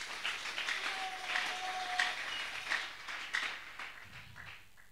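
A church congregation applauding during a service, a steady spread of clapping that fades toward the end, with a faint tone and voices in the background.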